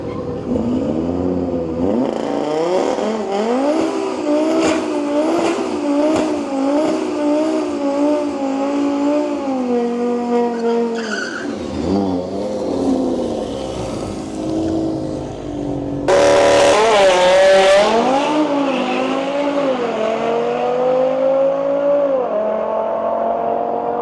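Drag racing cars at Santa Pod during a street weekend, engines roaring loud and continuous with rising revs and gear changes, a brief lull, then a sudden louder burst as another car launches hard.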